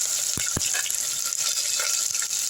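Onion, garlic, green chilli and curry leaves frying in oil, a steady hiss and sizzle with a few soft stirring knocks, close and continuous without talking.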